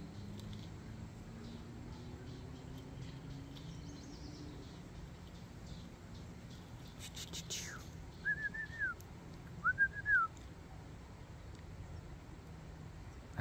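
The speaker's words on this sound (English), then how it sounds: "The bird wants to chip in." A pet bird whistles and chirps indoors: two short, bright rising-and-falling whistle phrases near the end, moderately loud over a steady low room hum, with a few faint chirps earlier.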